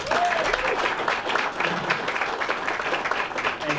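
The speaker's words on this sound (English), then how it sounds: "How about another round of applause for our mayor?" A full room applauds the mayor, Angelo Santabarbara, at a party: dense, steady clapping from a crowd, fairly loud and sustained throughout, with a few faint voices mixed in.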